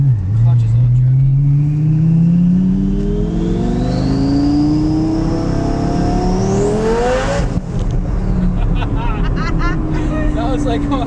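A twin turbo Lamborghini Gallardo, rated around 811 horsepower, accelerates hard with a loud, close engine note rising steadily in pitch for several seconds before a shift, then pulls on, while a person talks over it.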